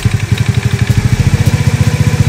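A Honda XRM/Wave motorcycle engine idles after carburetor cleaning and tuning, a loud, close, steady fast-pulsing putter with a mechanical clatter and no talk.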